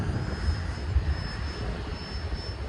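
E-flite Habu STS radio-controlled jet flying at full throttle, a steady distant airborne whine with a broad rushing roar that holds evenly throughout, no talk.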